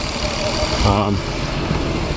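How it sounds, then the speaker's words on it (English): A turbocharged Lexus IS300 engine idles steadily with a constant mid-range rumble, heard close and continuous, with a brief tonal whine around the middle of the clip. "it's idling pretty good right now"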